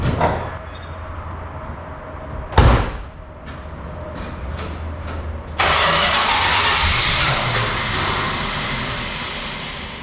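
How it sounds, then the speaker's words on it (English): A 1981 GMC 1500 pickup truck engine cranks and catches, then settles into a steady loud idle that continues to the end. "at least this car usually starts"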